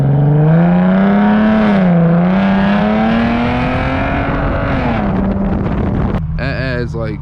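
Loud, droning exhaust of an Infiniti G37x with muffler and resonator delete, a strong steady tone that shifts in pitch as the engine pulls while driving, then briefly drops away.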